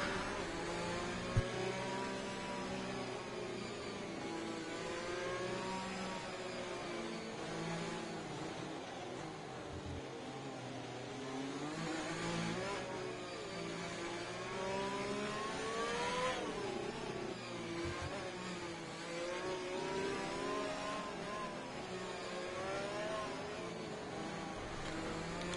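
Formula racing cars in a racing video game on an Azerbaijan Grand Prix circuit, a steady chorus of high-pitched engines whining and shifting as the pack passes, heard at a moderate distance for a long stretch.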